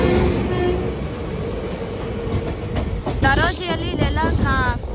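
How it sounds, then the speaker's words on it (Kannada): Goods train hauled by a WAG9 electric locomotive rolls past close by, a loud steady rumble with clickety-clack wheel beats and brief squealing tones toward the end. "ಈ ಕಡೆ ಗೂಡ್ಸ್ ಇದೆ."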